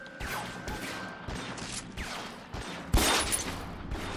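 Gunfire in the video game L.A. Noire: several sharp shots ring out over a low background, with a louder, heavier crack near the end.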